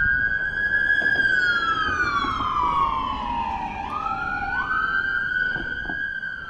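An emergency vehicle siren wails through a city, a long rising and falling tone heard at moderate distance over a steady background hum.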